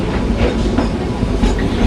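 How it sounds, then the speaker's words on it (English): A Baldwin 2-8-2 narrow gauge steam locomotive, built in Eddystone, Pennsylvania in 1901, rolls past at a theme park railroad, giving a steady, loud rumble of wheels and rail clatter throughout. "She is a Baldwin 282 narrow gauge locomotive, and she was built in Eddystone, Pennsylvania in 1901."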